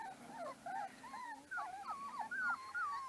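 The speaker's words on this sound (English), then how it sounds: "The dog had puppies" Young puppies whimper and yip in a continuous run of high, wavering cries close by, several pups overlapping with no talking.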